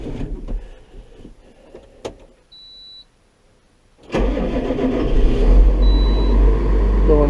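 A 2008 John Deere 7130 tractor starts after a few faint clicks and a brief electric whir, then its diesel engine catches and settles into a steady, loud idle as it warms up.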